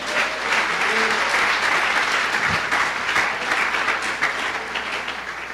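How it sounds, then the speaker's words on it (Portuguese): Church congregation applauding during a Sunday service, a loud, sustained burst of many people clapping together, full and even with no speech. "Dê uma salva de palmas ao Senhor."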